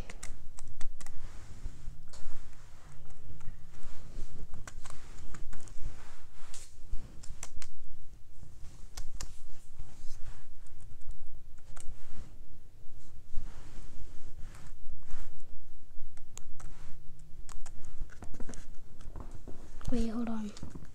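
Computer keyboard keys are tapped in quick irregular bursts while commands are typed on a Kano computer, with a person talking over much of the clicking.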